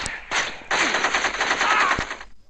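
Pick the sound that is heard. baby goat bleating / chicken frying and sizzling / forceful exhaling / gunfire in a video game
gunfire in a video game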